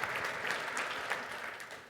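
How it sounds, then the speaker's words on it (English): Brief round of applause from a conference audience after a drumming-along exercise, a fairly quiet, even patter of many hands that tails off slightly. "Round of applause for you."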